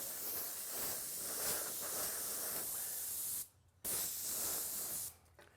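Airbrush spraying paint for a big flame job on a drag bike, a close, steady airy hiss that cuts out briefly twice as the trigger is released.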